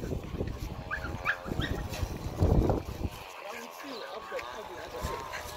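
Dogs out on a walk give yips, short barks and whimpers in bursts, mixed with talking and outdoor bustle, loudest around the middle before quieting.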